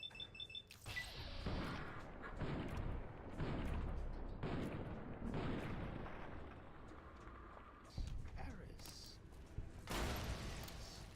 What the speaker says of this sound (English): Got a bloody gas bomb thrown at me, man.